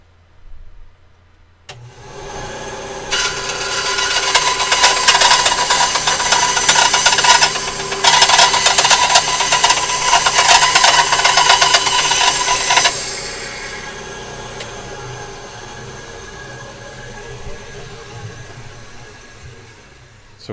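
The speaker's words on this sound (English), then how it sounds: "Gonna run this through the bandsaw, so give me 1 second." A bandsaw whirs up and cuts through wood, a loud sustained buzzing rasp that holds for about ten seconds before dropping back to the motor's steadier hum as the blade runs on.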